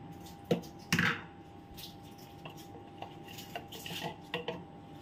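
Spoon clinks against a bowl while banana flower mixture is mashed together with spice paste, with a few sharp scrapes and knocks over soft squishing, close and fairly quiet, no talking.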